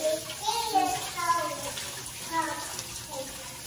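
Cold water runs and splashes in a bowl in a home kitchen while homemade butter is rinsed and squeezed, a steady watery wash heard under someone talking.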